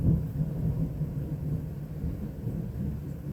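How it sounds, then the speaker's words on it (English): Thunder from a storm rolls on as a continuous low, deep rumble, fairly steady and moderately loud with no voices over it. "To hear the thunder."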